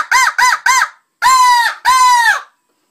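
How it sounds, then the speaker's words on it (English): An aggressive crow sound is blown on a handheld crow call, giving three quick short caws followed by two longer, drawn-out harsh caws. The calls are loud and close, with no talking. "Bite a little bit harder. To do your more aggressive crow."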